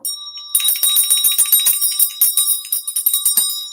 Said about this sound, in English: I'm being drawn to ding the bell.